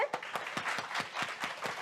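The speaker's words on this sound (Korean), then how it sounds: "영광의 하나님께 박수를." A church congregation at a revival gathering claps together in quick, steady rhythm, close and fairly loud, for a couple of seconds.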